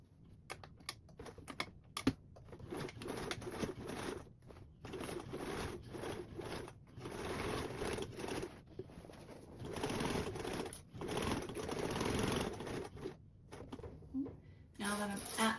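A sewing machine stitches the seams of a convertible duffle bag in bursts, loud rapid mechanical runs broken by short pauses and clicks of fabric handling.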